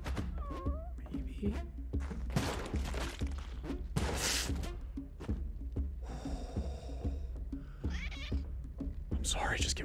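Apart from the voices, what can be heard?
cat meowing in the video game Spelunky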